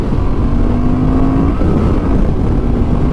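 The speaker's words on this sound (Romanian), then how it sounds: "Și hai să vedem pe linie dreaptă accelerația." A Honda motorcycle accelerating hard on a straight, a loud, close, steady engine roar with a rising tone that dips and resumes as it shifts, continuous throughout with no talking.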